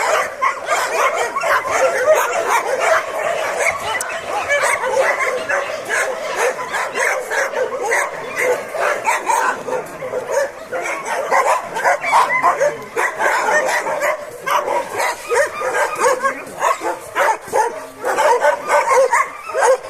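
A litter of West Siberian Laika puppies yaps and barks nonstop, a dense, high-pitched chorus of overlapping yips and whimpers that carries on steadily at close range.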